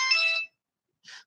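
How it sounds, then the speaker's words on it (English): A phone rings in two short electronic bursts, the first longer and brighter, then a brief pause before the second, close and clear with no talking over it. "Now the phone's ringing."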